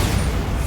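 A Bombarda spell explosion in Hogwarts Legacy, a short, dense, loud boom that fills the whole moment.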